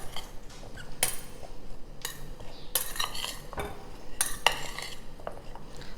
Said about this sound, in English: Just going to stir this well.